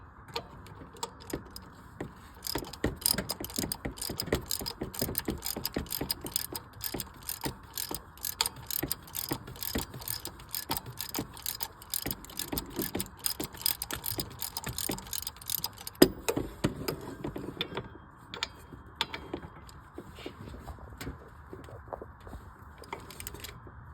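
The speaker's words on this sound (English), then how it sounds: "So I'm just using a 3/8 drive ratchet with a deep well 15." A 3/8 drive ratchet with a deep 15 mm socket turning bolts on the lower passenger side of a 1999 Silverado 5.3 during serpentine belt tensioner work, giving steady bursts of fast, close clicking with short pauses between strokes.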